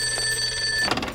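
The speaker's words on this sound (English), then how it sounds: "That could be the phone." Telephone ringing, a bright steady electronic ring sustained close by that cuts off abruptly, with no talk over it.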